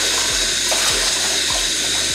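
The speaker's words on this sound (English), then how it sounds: "Paisley, go ahead and start the water" Water runs steadily from a sink faucet in a broad, continuous hiss, close by, with a few soft low thumps underneath.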